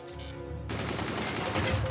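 Machine gun fire in the fort-building strategy game Forts, a dense rapid burst crackling loud and close, starting about a third of the way in after a brief quieter intro and continuing without pause.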